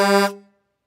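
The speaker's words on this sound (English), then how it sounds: "Don't forget to honk the horn." One short, loud blast of a car horn, cut off abruptly after a fraction of a second and followed by silence.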